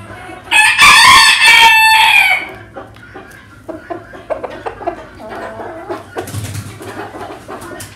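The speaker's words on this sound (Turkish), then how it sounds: "Bu da yeni gelen horoz dostlar." A loud ornamental-breed rooster crows once up close on a farm, followed by softer clucking and scattered chicken noises in the background.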